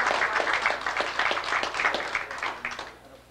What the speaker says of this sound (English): One quick clap.